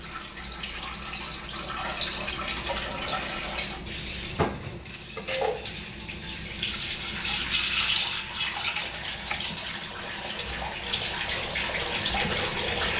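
Tap water runs steadily as soaked food is rinsed during meal preparation, a continuous close splashing stream with a few brief knocks.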